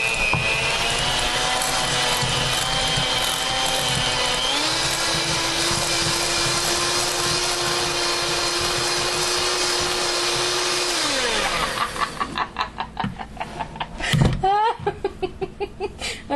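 Electric mixer beating a brick of softened cream cheese in a kitchen, a loud steady whine that shifts pitch partway through, then cuts off near the end, leaving brief clatter and bumps.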